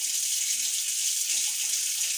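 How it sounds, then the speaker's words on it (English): Water runs steadily into a bathtub to rinse braids, a continuous close hiss of flowing tap water heard alone with no voices. "So we come in with our water again."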